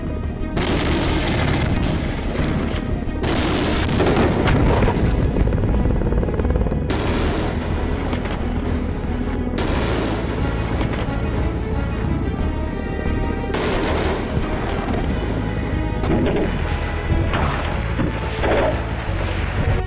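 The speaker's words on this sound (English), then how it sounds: "demonstrating the chaos of using cluster bombs on the battlefield" Repeated heavy blasts from cluster munitions exploding across a battlefield, with dense overlapping booms and crackling bursts that keep going for the whole stretch, loud and chaotic, with no speech.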